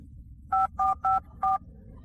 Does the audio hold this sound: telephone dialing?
yes